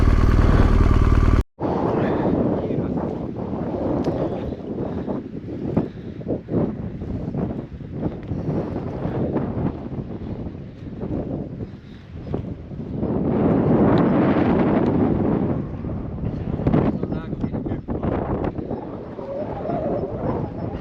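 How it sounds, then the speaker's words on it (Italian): Heavy wind buffeting the microphone atop the San Bernardino Pass at 2,066 metres, a loud, continuous low rumble that swells and eases over about twenty seconds. "Spero che mi sentite perché c'è parecchio vento."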